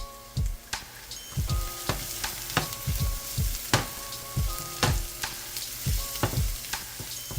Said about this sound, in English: I'm going in with the garlic now